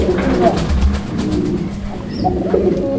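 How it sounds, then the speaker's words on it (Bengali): Soft, low pigeon cooing runs steadily through the clip, with a faint voice underneath and a brief higher chirp near the end. "আমরা এই মুহূর্তে দেখতে পাচ্ছি এখানে একটা সিঙ্গেল কবুতর আছে"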